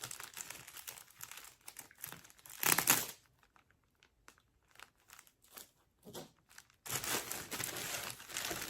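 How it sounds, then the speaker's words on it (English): A small razor knife slices through packing tape on a parcel, with bursts of crinkling packaging rustle between quieter stretches of small scratchy cuts, close and alone. "Get my little razor knife here and make sure I'm only cutting tape."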